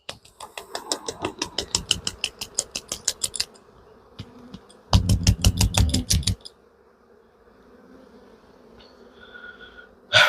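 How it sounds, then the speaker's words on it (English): Honeybees buzz in loud bursts as they are shaken off a hive frame, with rapid repeated thumps of the shaking, a lull, another intense burst, then quieter buzzing nearby. "So I'm going to shake these bees off."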